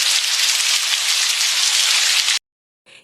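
Steady heavy rain pours down as a dense, close hiss of drops on a surface for a couple of seconds, then stops abruptly before a short faint burst returns.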